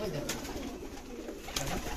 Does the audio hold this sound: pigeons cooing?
yes